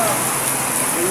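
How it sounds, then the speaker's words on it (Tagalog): Heavy rain pours down in a countryside farm setting, a dense, steady hiss of drops drumming on surfaces, loud and unbroken throughout. "Lakas po ng ulan dito mga kabukid."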